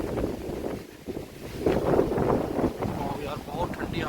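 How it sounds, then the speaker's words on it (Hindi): Cold wind blowing through a Himalayan mountain village, buffeting the microphone in uneven rumbling gusts close up, with someone talking beneath it. "यार बहुत ठंडी हवा चल रही है भाई"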